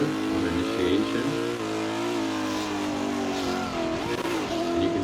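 A drift car's engine revs hard and continuously during a drift competition chase run, loud and sustained with shifting pitch as the car slides through the corner.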